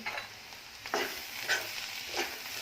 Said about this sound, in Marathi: तर पुन्हा भरीत आहे तर जरा ढवळून घ्यायचं आहे